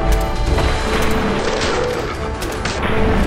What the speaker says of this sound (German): Aber es waren eiskalt drei Schüsse, drei Headshots und drei Kills.